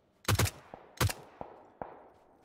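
Video game gunfire: a quick burst of two loud shots, another close shot, then several fainter single reports trailing off.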